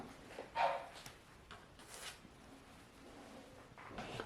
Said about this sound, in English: my dog was very quiet in the background and now she's barking